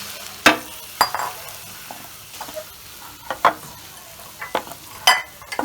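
Boiled beef, cooked with turmeric and salt, is stirred into a sizzling pan for Kerala-style beef roast, sharp spoon-on-pan scrapes and clanks recurring about every half second over a soft frying hiss.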